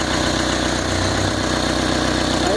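A car engine idles steadily after a head gasket and camshaft replacement, a close, loud, even running hum with a regular low pulse and no speech.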